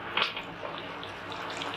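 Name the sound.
pouring water into meal maker curry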